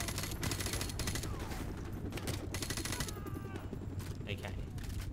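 Gunfire in Call of Duty: Modern Warfare Remastered, fired from a rooftop: loud, dense bursts of automatic shots crackle without a break through the whole stretch, layered with ricochets and other battle noise.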